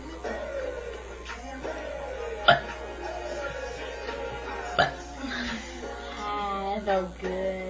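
Short burps after drinking soda come a few times at irregular intervals over a steady low background hum.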